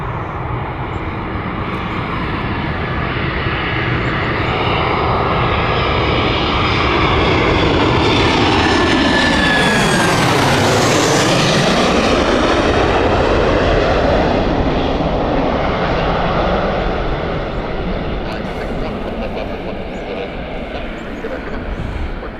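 A jet airliner at Gatwick Airport roars past, its engine noise swelling to a loud peak mid-pass with a falling whine before fading slowly into a long rumble.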